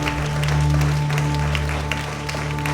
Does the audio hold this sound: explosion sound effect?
no